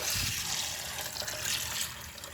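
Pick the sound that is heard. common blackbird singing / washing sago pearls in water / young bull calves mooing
washing sago pearls in water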